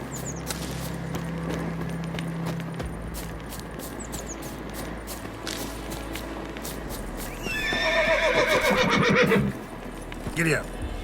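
In The Witcher 3 a horse whinnies loudly with a rising, shaky neigh over steady clip-clop of hooves and game ambience, with a voice speaking briefly; the hoof rhythm continues throughout and the neigh stands out near the end.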